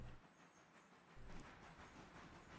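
A train in the Railroader video game drifts quietly downhill, heard as a faint, steady low rumble with a soft hiss and no sharp clatter.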